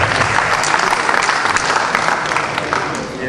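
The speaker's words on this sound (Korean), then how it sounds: "우리 박수하고 마치도록" Warm, dense applause from a church congregation at a Methodist pastors' conference, continuous steady clapping from many hands that slightly fades toward the end.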